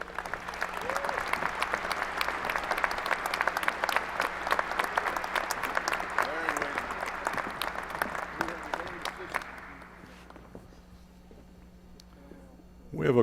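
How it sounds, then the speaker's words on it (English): A crowd applauds steadily with dense clapping for several seconds, then the applause fades out and the room quiets. "And could we also once again have applause for Dr. Kresge?"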